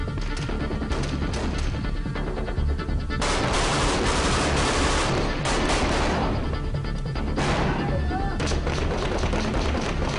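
Dense bursts of rifle and machine-gun fire crack back and forth during a firefight in Ramadi, Iraq, sustained and loud throughout with overlapping volleys.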